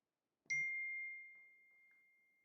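A single bright ding from a phone text message notification, a clean tone that rings out and decays slowly in an otherwise quiet room.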